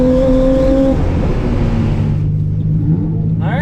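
A race car on a time attack lap, held in third and fourth gear, gives a loud sustained engine drone that shifts pitch and then thins out as it pulls away, with a brief whir at the end.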